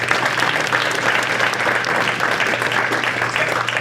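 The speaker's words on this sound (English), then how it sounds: "All right, guys, quick round of applause for Chris." A room of listeners delivers a quick, even round of applause for Chris, thick continuous clapping held at a steady level throughout, with a low hum underneath.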